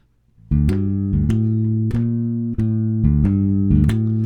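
Bass notes are plucked in a steady, even pulse, each note sustained into the next like a walking line, clear and close.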